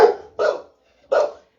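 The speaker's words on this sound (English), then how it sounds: "let them bark at whatever it is they're barking" Dogs barking inside a house, three sharp, loud barks in quick succession with short pauses between, close by and with no talk over them.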